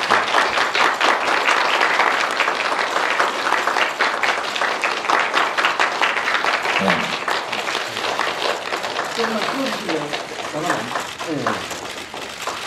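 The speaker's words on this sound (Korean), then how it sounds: "여러분 다시 한번 박수 부탁드리겠습니다" An audience at a Korean Ministry of Environment ambassador appointment ceremony claps steadily and loudly for several seconds, then the applause thins as a host begins speaking over it.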